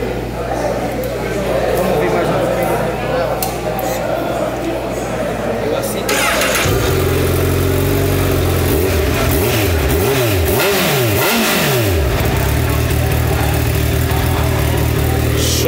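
A Honda CBR1000RR Fireblade sport motorcycle idles with a low, steady exhaust burble, then fires up louder and is revved hard several times, its exhaust note rising and falling in sharp sweeps before settling back to a strong idle, heard up close.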